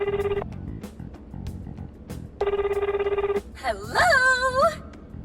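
A telephone rings in Persona 5 Strikers in two clear electronic bursts, a steady warbling tone with a pause between. A brief, bright, cat-like cry follows right after the second ring.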